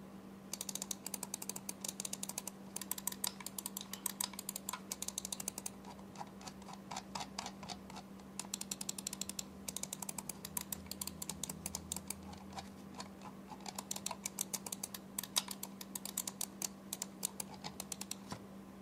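Dense, rapid ticking of a Vortexseries Inno X1 gaming mouse scroll wheel turning, soft yet noticeably notched clicks in quick bursts with short pauses, close and quiet over a faint steady hum.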